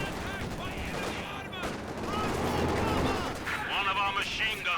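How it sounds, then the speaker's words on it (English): Gunfire from Company of Heroes 2, a World War II real-time strategy game, with Soviet PPSh guards opening up amid machine-gun and rifle volleys and distant explosions, dense and continuous under a commentator's voice. "PPSH guards finally stop and turn around and start firing at them."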